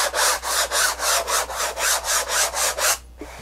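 Hand sanding of a wooden canvas frame: about eleven even, rhythmic rasping strokes back and forth, close and clear, with no talking, ending in a brief pause and a small knock.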